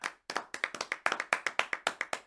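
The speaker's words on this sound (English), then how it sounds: "Insert audience clap sound effect here." Crisp, rapid hand clapping, a small group applauding in a quick steady rhythm after a brief pause at the start.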